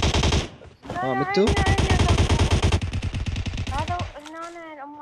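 Rapid machine gun fire in PUBG Mobile, a loud sustained rattle of closely spaced shots over several seconds, with someone talking briefly at the start and end.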